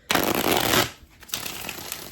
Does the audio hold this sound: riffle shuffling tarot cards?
yes